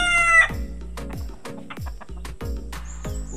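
A gamefowl rooster crows at a chicken farm, one loud, close cock-a-doodle-doo at the start followed by a run of clucks and short calls from nearby fowl.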